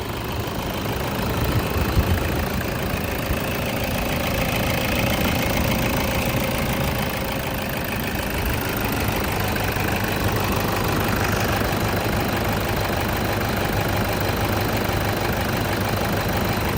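A 2013 Toyota Fortuner 2.5 G automatic diesel engine running, a loud, steady idling drone with a low rumble and constant vibration, close and unbroken for the whole stretch.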